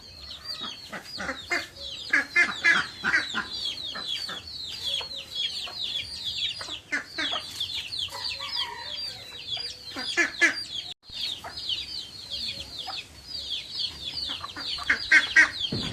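A flock of native free-range chickens clucks continuously, many overlapping calls close by, with an occasional louder squawk and no talking.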